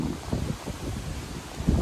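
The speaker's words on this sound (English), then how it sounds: "It's very windy today as well." Gusty wind roars into the microphone with low rumbling buffets, with a faint rustle of trees behind it. No one speaks.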